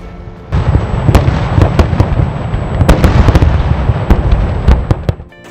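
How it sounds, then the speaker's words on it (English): Rapid firecrackers and fireworks bang and pop in an irregular volley, sharp cracks standing out over a continuous crackling rumble, loud and close. "a cracker or a firework is a small pyrotechnic missile that explodes in a very specific way"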